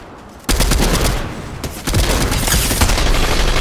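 Gunfire hits a player's building in a Fortnite duo match, a loud, dense, rapid volley of shots and impacts that keeps up for several seconds after a quieter opening, with no talking.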